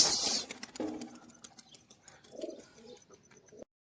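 A flock of about twelve pigeons at a Gujarat loft, cooing and fluttering up close over a short stretch, with one soft mid-range burst of calls and then silence.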